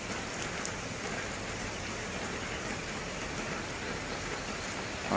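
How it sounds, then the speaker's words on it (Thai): Steady, dense rainfall pattering on surfaces at Pak Tho railway station, an even wash of noise with no pauses, fairly close and constant throughout. "ฝนเริ่มเบาแล้วนะครับ"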